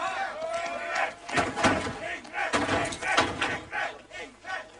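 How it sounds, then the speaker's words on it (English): Spectators shout and roar in bursts, urging on strongman Ingvar as he hauls ice blocks at a 1984 strength competition, with thuds and clattering mixed into the crowd noise. "The crowd urging Ingvar on"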